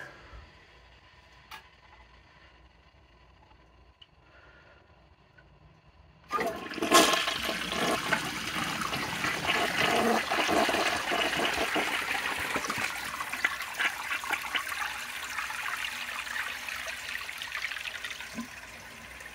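A blue 1972 Kohler Wellworth toilet flushes loudly after a few quiet seconds, a sudden rushing whoosh of water that settles into a long, steady swirling drain and trickle.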